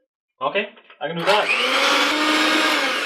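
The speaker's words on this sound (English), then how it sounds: "So, whisk whites until stiff." An electric whisk beats egg whites until stiff for a chocolate roulade at home. A brief spoken phrase comes first, then a loud, steady, close whirring starts and keeps running without a break.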